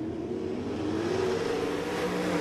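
Dirt track race cars accelerating together on a restart at Ohsweken Speedway, a loud continuous engine roar with a rising pitch as the pack picks up speed, close and steady.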